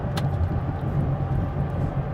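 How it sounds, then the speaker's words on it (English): A 2016 Duramax diesel Chevrolet Colorado with its exhaust brake engaged in tow haul mode, heard from inside as a steady, loud low rumble and drone with no break. "I'm going to engage the tow haul mode, which also engages the turbo brake, the exhaust brake"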